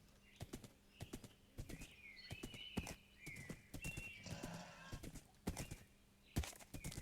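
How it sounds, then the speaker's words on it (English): Minecraft horse hooves clip-clop in a steady galloping rhythm, joined by several high neighs and whinnies, moderately loud and clear with no talking. "A horse can run across here, start the timer, and run to the end."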